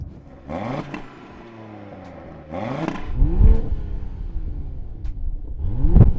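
An Audi RS3 engine revs up repeatedly, rising and falling in pitch with loud, throaty bursts and crackles between quieter idling.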